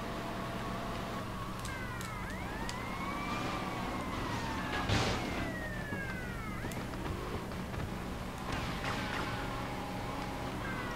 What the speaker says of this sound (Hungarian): Ah, itt is sziréna van már.